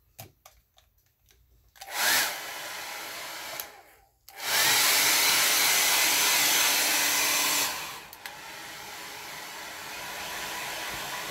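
A hair dryer blows across a watercolor landscape painting, with a few faint taps first, then short bursts of loud, close whooshing airflow and a steady stretch that drops to a softer, lower hum toward the end.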